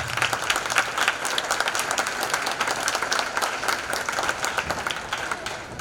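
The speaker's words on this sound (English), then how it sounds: "Round of applause for our administration." Audience applause fills a school gymnasium or auditorium at a 5th and 6th grade band concert, steady dense clapping from a crowd of parents lasting several seconds at moderate loudness with no one speaking over it.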